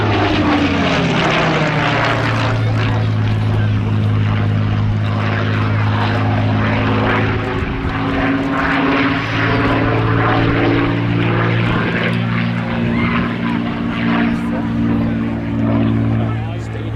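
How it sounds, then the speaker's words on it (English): A Supermarine Spitfire, an ex-Russian airframe, flying at an air festival, its piston engine and propeller giving a loud, steady droning growl with shifting harmonic tones as it passes close by. "Now here we are, the Russian Spitfire."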